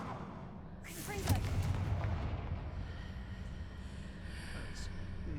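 The Confringo blasting spell in the video game Hogwarts Legacy sets off a deep, rumbling explosive blast that swells quickly and then lingers as a loud, sustained roar with crackling debris.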